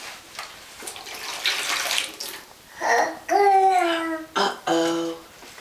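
A small child pours water from a cup, with splashing and trickling under adult talk and the child's babbling, the flow coming in short uneven bursts.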